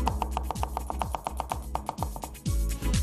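Garlic is finely chopped with a knife on a board, a fast, steady run of close, crisp knocks that speeds into denser rapid chopping near the end.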